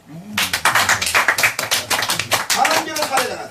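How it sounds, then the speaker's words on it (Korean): Audience clapping at a Korean political lecture hall, a burst of hand claps rising under a man's ongoing speech and continuing steadily for a few seconds. "박수 치죠."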